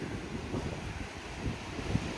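Blustery wind buffets the microphone at the seaside at Ladram Bay, Devon, a steady rumbling roar with a few stronger gusts and no clear voices.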